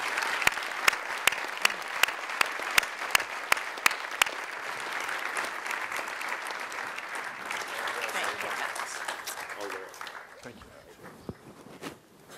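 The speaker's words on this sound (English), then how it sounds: "Let's give them a round of applause." An audience applauds the Dornsifes at a university talk, with sharp claps close to the microphone over a broad wash of crowd clapping that tapers off near the end.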